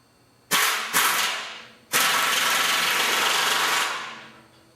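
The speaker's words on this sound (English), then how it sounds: "We put a lock nut on the bolt and tighten it with the butterfly wrench." A pneumatic butterfly wrench runs down a lock nut on a bolt. Two short, sharp bursts come first, then a longer steady loud whir of a few seconds that tapers off.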